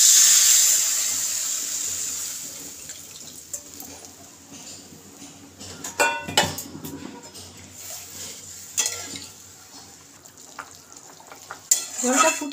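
Water poured into a pan of sizzling fried spice masala for a hilsa fish curry with potatoes and aubergine; a loud hiss at the start settles into quieter bubbling with clinks of a spoon stirring against the pot.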